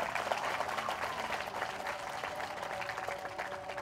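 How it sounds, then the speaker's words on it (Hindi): A church congregation at a Maundy Thursday Mass applauds with steady, dense clapping throughout. "जोरदार तालियां इन्हां दे वास्ते"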